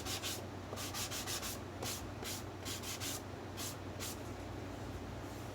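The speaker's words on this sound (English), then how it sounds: "now I've got a piece of 400 grit sandpaper, and I'm just going to kind of smooth everything out just a little bit more" Hand-sanding foam edges with 400 grit sandpaper: quick, rhythmic back-and-forth rasping strokes, close and steady, repeating in short bursts over a faint background hum.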